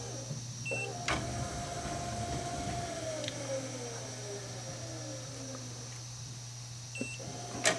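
A remote-controlled motor runs after the open button is pressed, giving a close, steady whine that slowly falls in pitch over several seconds, with short beeps at the start and end over a constant low hum.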